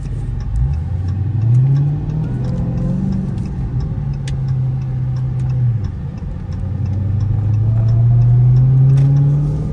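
A 2022 Dodge Challenger Hellcat Redeye supercharged V8 on bald tires revs up and down in repeated loud pulls close by, engine pitch rising and falling steadily with no talk over it.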